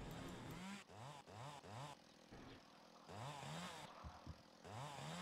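A Dilmar PS chainsaw in the video game Dead Frontier 2 buzzes and revs repeatedly in short rising bursts, a loud, close engine whine that pulses on and off across the clip.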